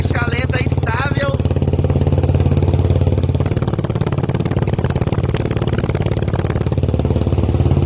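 A Honda Twister 340cc motorcycle engine converted to run on methanol idles steadily and loudly with an even, rapid mechanical pulse; a brief voice is heard at the start.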